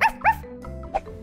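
A dog in a children's cartoon story gives a quick pair of loud, close yips, then a softer whimpering bark, all within about a second.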